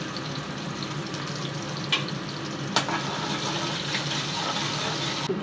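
Onions frying in hot oil with five-spice seeds and black cumin, giving a steady, dense sizzle throughout with a couple of sharp clinks from stirring.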